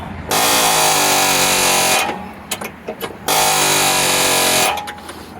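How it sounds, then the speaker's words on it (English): A pneumatic nibbler cutting the steel of a Chevy HHR, roaring loud and close in two long sustained bursts, separated by a short stretch of rattling, uneven chatter. "just letting the compressor catch up and keep nibbling away at that back edge there"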